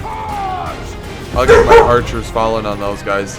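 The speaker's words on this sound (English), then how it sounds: "That was my dog, guys." A pet dog barks a few times in a room, loud and close, over a voice narrating a Medieval 2 Total War battle in the Rise of the Three Kingdoms mod.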